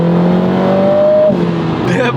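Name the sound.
Lotus Emira I4 sports car accelerating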